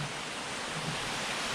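Steady broadband rush of water at the foot of a waterfall, a continuous even roar without pauses and no voices.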